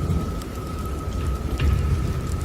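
Heavy rain pours in a dense, loud, continuous hiss with a faint low rumble beneath, with no talking.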